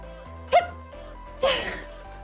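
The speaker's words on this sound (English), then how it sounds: "I'm gonna sneeze." Two short, sharp sneezes about a second apart, the second louder and breathier, against quiet background hum.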